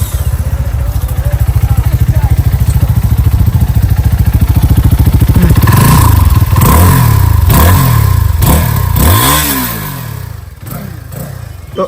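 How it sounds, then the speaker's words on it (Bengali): A CF Moto 250SR motorcycle engine runs close by, first with a fast steady idle throb and then several loud revs that climb and fall in repeated swells before settling. "তো আমরা এখন এই বাইকের সাউন্ড শুনবো।"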